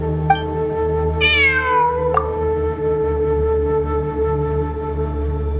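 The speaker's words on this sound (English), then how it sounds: "It really is a cat." A cat in Genshin Impact gives one rising and falling meow over a steady low hum of game ambience, with a faint chirp before it and a soft tap just after.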